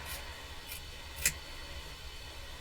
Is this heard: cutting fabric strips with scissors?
yes